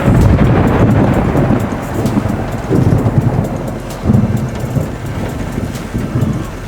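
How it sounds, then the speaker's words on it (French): A supercell thunderstorm sweeps in with heavy, blustery wind buffeting the microphone, low rumbling thunder and rain forming a loud, continuous roar that swells and dips without pause. "On se laissera balayer par cet orage."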